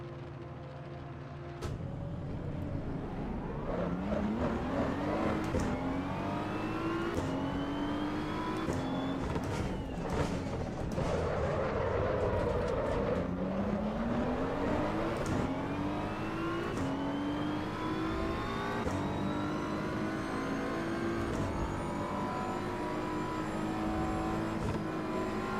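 A race car in Assetto Corsa EVO pulls away from a standing start with auto clutch, engine revving and rising through repeated gear changes, loud and continuous with whine and upshift drops.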